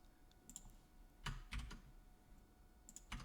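Computer keyboard typing while entering assembly code for indirect addressing, scattered clusters of crisp key clicks with short pauses between bursts, close and moderately loud, no talking.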